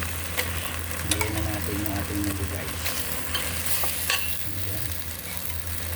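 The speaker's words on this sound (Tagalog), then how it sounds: "naigisa na natin yung ating uh, kamatis at saka yung ating uh, ah, patatas at saka yung ating the rice Kaya ilagay na natin yung ating munggo" Mung beans are stirred into sautéed tomato, potato and rice in a pan, giving a steady sizzle of frying with scraping stir strokes and occasional clinks, close and moderately quiet.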